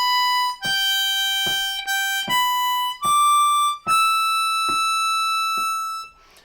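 A G harmonica plays a phrase of Auld Lang Syne in clear, sustained single notes that step between pitches, ending on a long held high draw note, solo and close.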